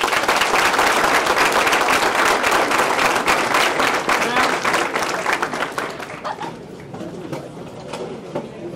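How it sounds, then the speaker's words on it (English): A school crowd at Springdale applauds former football players, loud dense clapping that fades out after about six seconds into quieter room noise with a few scattered claps and murmuring voices. "Give them a round of applause."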